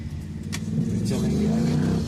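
A Maruti Alto's engine hums low and steady as it shifts back into second gear on a hilly road, the drone rising slightly midway, close and continuous.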